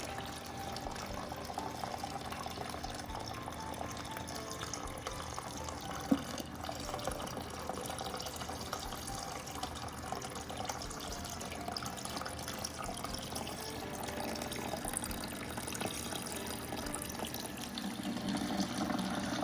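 Water runs from the dispenser of an LG refrigerator after a new water filter is fitted, a continuous, quiet splashing stream into a container that holds steady and swells slightly near the end.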